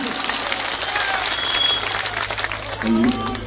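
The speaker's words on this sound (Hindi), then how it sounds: "जोरदार तालियों से।" A crowd at an outdoor political rally in Rajasthan applauds loudly and steadily, with some shouting and voices mixed into the clapping.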